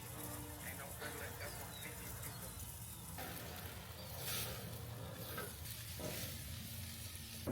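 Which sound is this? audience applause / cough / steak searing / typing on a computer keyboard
steak searing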